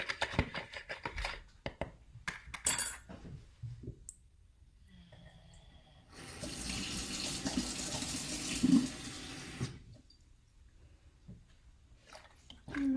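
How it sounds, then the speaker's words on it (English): Water pours into a mixture for homemade bouncy balls, a steady rushing splash of a few seconds in the middle, preceded by scattered clicks and clinks of stirring and handling. "I'm going to add a little bit more water."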